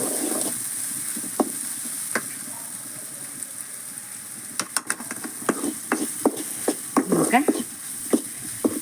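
Soybean chunks fry in hot oil in a home kitchen, a steady sizzle broken by sharp crackles and pops that grow busier toward the end, with occasional stirring clatter.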